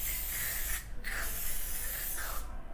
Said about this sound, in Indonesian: Tinggal kalian shake dia, lalu semprotin.